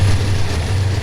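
A steady low rumble with constant rolling noise of train wheels over railroad ties in the Trainz video game, loud and continuous without distinct clacks.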